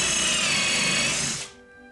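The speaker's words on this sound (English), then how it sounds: "So we'll start with the upper left and drill it" A power drill whines loudly and steadily while driving a screw into a wooden owl box, then stops abruptly, leaving a faint ringing afterward.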